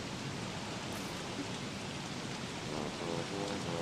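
Steady rain in the Don't Starve video game, a continuous hissing downpour with dense patter, moderately loud and unbroken, with no voices over it.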